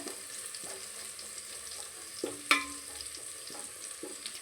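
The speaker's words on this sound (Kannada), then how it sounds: "ಕಲರ್ ಚೇಂಜ್ ಆಗೋ ತನಕ ಫ್ರೈ ಮಾಡ್ಕೋಬೇಕು" Garlic fries in a pan with a soft, low sizzle while being cooked until its colour changes for mutton sambar. A few light clinks of a spoon against the vessel punctuate the quiet frying, with one sharper knock midway.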